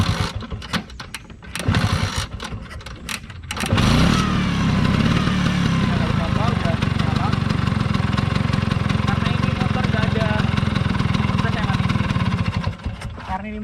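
A Vespa scooter engine cranks a few times and then catches, settling into a steady, loud two-stroke idle that runs close up for most of the stretch.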